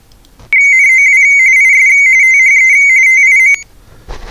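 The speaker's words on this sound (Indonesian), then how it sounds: "Oke, itu suara telex." Ham radio RTTY radioteletype telex signal, a loud steady electronic tone with a bright pitch held for about three seconds, then cutting off abruptly, with faint room noise around it.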